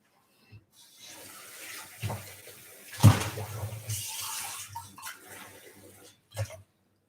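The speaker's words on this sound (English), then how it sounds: "Now place 1 cup of water." One cup of water poured into a small saucepan in a home kitchen, a brief close splash and trickle with soft clatter around it, then a short knock at the end.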